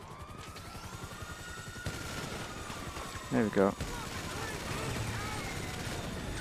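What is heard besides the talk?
minigun firing in a video game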